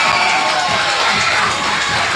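A wrestling crowd in Paulsboro cheers and shouts, a dense, loud, continuous roar of many voices with a few higher children's yells mixed in.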